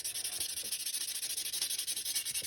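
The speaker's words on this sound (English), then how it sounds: "I'll spare you guys the tediousness of all this sanding that I gotta do." Steady rhythmic back-and-forth rasping of sandpaper on a carved moon snail shell, close and continuous, with no voices.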